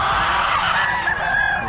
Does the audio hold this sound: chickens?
yes